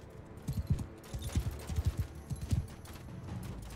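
Cavalry horses galloping in the medieval battle game Mount & Blade II: Bannerlord, a quick series of thudding hoofbeats in uneven clusters, moderately close, over a low battle rumble with no talk.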